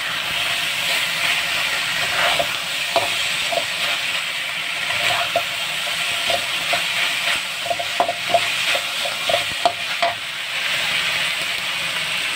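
Meat barbecue pieces being stirred and cooked in a kawali pan, a loud continuous sizzle broken by repeated scraping clicks of the utensil against the pan, with no talking.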